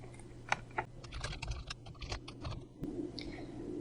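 Typing on a computer keyboard while writing code, a quick irregular patter of close key clicks and taps, fairly quiet, with no talking.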